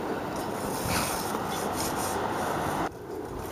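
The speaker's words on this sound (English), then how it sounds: "deckhand Penny, using a wire brush to scrape the crusty rust off of the weight." Wire brush scraping crusty rust off a crab pot's metal weight, a steady close rasping scrub with a short break near the end.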